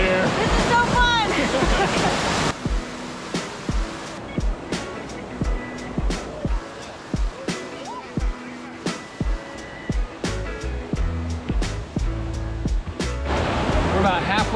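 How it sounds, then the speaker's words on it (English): Rushing water at Dunn's River Falls in Jamaica roars without a break. Many sharp clicks and knocks sound over it, and the torrent swells louder near both ends. "Definitely climbing up a waterfall here."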